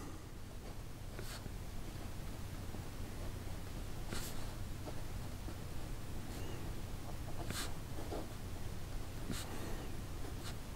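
Visconti Asia Bamboo fountain pen writing on paper, a faint continuous scratchy nib glide with occasional brief louder strokes over a quiet room background.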